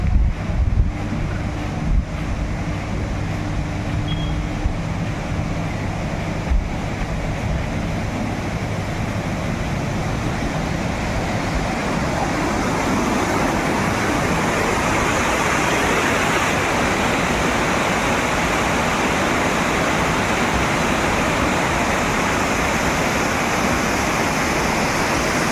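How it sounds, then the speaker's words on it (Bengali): Water rushes steadily at Banjhakri waterfall, a dense continuous roar that swells louder as it nears, with wind buffeting the microphone and no voices. "চলে এসেছি বনঝাগড়ি ওয়াটারফলসে। জলের একটা আওয়াজ শোনা যাচ্ছে"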